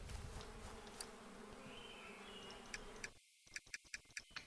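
Bees in the beekeeping video game APICO buzz in a soft, steady drone, then the sound cuts out and a quick series of ticking clicks follows; faint overall with no speech.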